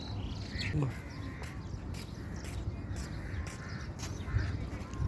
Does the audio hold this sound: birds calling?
yes